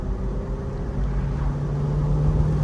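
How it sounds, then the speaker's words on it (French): A Peugeot 206 CC S16 accelerates at full throttle in third gear from about 60 km/h, its engine drone steady and loud with a gradually rising tone, heard from inside the car with no talking. "on est à 60 en 3ème, t'appuies à fond, bon, ça repart gentiment"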